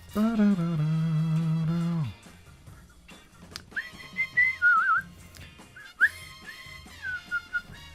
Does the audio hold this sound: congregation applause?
no